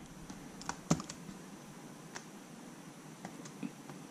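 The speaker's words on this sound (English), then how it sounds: "I'm going to type this in." Keystrokes on a computer keyboard as a fastboot command is typed to flash recovery on a Nexus Player, a sparse, irregular run of light clicks at close range with one sharper tap near the start, quiet throughout and without talk.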